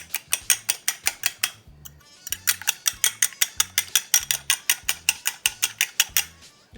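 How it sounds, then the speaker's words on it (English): A single egg is beaten for an egg wash, giving quick, sharp, rhythmic clicks of utensil against bowl, about four per second, with a short pause before the beating resumes steadily. "So 1 egg, and I'm just gonna beat it."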